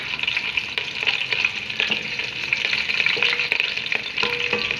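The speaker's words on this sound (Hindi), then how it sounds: "इसको थोड़ा सौते कर लेंगे।" Whole spices — black cardamom pods, black peppercorns, cinnamon pieces — and green chillies sautéing in hot oil, giving a steady bright sizzle with intermittent pops and stirring clinks.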